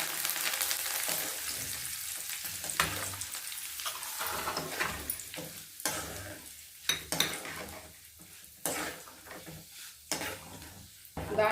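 Dried red chillies and curry leaves frying in hot oil for a tomato pickle, a steady sizzle broken by repeated metal clanks and scrapes of a spoon against the pan, close and uneven.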